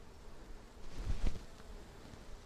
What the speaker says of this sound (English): Now I'm seeing a similar amount of bee numbers to before